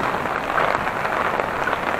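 Heavy typhoon rain pours steadily and close, a dense, even hiss of drops hammering surfaces with no pause and no voices.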